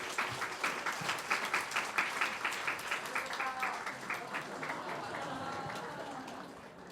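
A church congregation claps during a Sunday service youth promotion ceremony, sustained applause that holds steady for several seconds before thinning and fading out toward the end.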